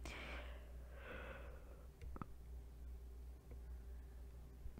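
A tired yawn, a long breathy exhale with a drawn-out sigh near the microphone, followed by a couple of soft clicks and quiet breathing.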